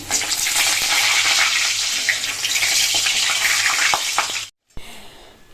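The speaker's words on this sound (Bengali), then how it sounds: "তার আগে পাঁপড়টা ভেজে নিই" Poppadom frying in hot oil in a home kitchen, a loud, steady sizzle and crackle lasting over four seconds before cutting out briefly, then a fainter hiss returns.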